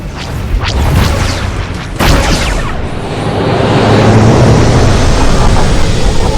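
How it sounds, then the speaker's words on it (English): Ground cannons in Star Wars The Old Republic fire loud booming blasts, with sharp explosive hits near the start and around two seconds, then a sustained roaring rumble like passing aircraft. "There are more ground cannons than anticipated."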